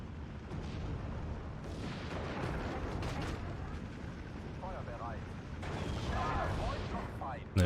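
Artillery shells crash down on sniper positions in the Steel Division 2 wartime strategy game, a steady run of rumbling impacts and crackling gunfire over battle ambience, with a louder burst at the very end.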